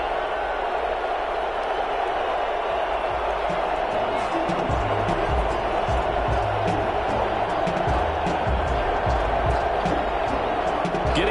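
Stadium crowd noise in an EA Sports NFL football video game, Washington versus Minnesota, keeps up a steady dense roar and cheer beneath ongoing commentary.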